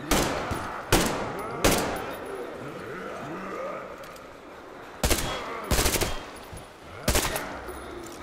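Loud automatic gunfire from a machine gun in the video game Metro Exodus comes in several sharp, close bursts with short pauses between them, over a lower layer of game ambience.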